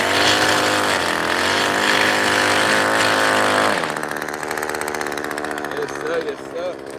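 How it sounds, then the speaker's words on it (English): A gas string trimmer runs outdoors during landscaping work, a loud, steady motor whine that drops in pitch and grows rougher about halfway through. "we just weed whacking right now, though"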